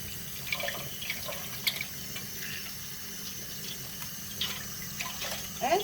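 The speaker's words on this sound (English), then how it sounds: "you can actually run the water" Tap water runs steadily into a sink while a guinea pig is bathed, a continuous splashing stream with a few brighter drips and clinks along the way, heard close up.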